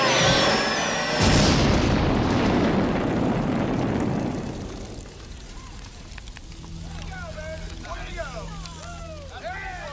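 A science-fiction sonic bore fires with a huge roaring blast and rumbling explosion that crackles like fire and slowly fades, after which a voice speaks over a low hum.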